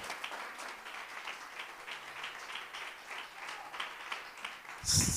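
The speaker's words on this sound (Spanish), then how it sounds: "Dale fuerte el aplauso al Señor." A church congregation applauding, a soft, steady wash of clapping that sounds fairly distant and fills the room for several seconds, swelling a little louder at the very end.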